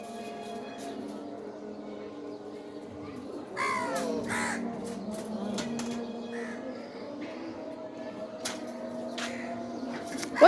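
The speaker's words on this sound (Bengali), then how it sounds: "ওই যে কাক আসছে" Crows caw repeatedly from close by, with harsh calls clustering in the middle and scattered later, while faint voices and other background sounds run underneath.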